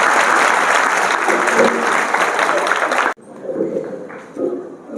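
A school audience claps in a sustained, dense burst of applause that stops abruptly partway through, followed by a quieter room with scattered faint movement and a few soft thumps.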